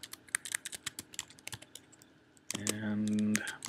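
A password is typed quickly on a Mac keyboard, a close run of crisp, uneven key clicks. A tonal chime sounds near the end while typing continues.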